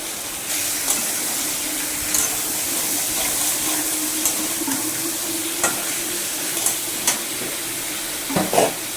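Pre-fried pointed gourd and potatoes sizzle in a spice paste for a fish curry, a continuous close hiss of frying dotted with intermittent stirring scrapes and clinks, with no voices.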